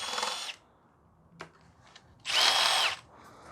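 Power tool, likely a cordless drill or driver, spinning out valve cover bolts on a 1974 Datsun 260Z engine: two short close whirring bursts separated by quiet pauses with faint clicks of handling.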